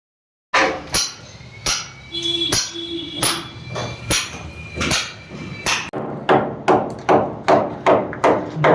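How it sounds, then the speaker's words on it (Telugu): Hammer blows on a chisel chip away the corners of a stair wall to seat a dummy electrical box at a construction site, giving a long run of sharp, close metallic knocks. The strikes start spaced out and speed into a steady rhythm. "మూలలు కొట్టినాక మరి తీసేసి అక్కడ టక్ టక్ సౌండ్ వస్తుంది."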